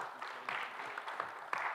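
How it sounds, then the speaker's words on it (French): Applause at a municipal council meeting in Villefranche, a room of people clapping steadily and moderately loud for close to two seconds, with no voices over it. "je crois qu'on peut applaudir Alain Rullier"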